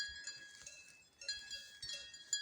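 Cowbells on cows and bulls clank and jingle irregularly in the Hutsul region's autumn mountains, several bells sounding at once at a moderate distance, coming and going in small bursts.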